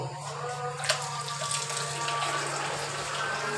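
Four slit green chilies are rinsed under a running kitchen tap, a steady close stream of water with a small clink early on, no voices.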